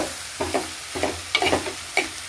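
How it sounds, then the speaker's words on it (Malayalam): A spoon scrapes and stirs banana stem stir-fry with curry leaves in a clay pan, about five distinct close strokes over a faint sizzle, with no voices. "ഇളക്കി യോജിപ്പിക്കാം"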